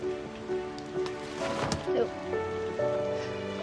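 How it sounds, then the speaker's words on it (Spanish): Steady rain patters on a surface in the background, with music or tonal sounds playing over it. "está lloviendo"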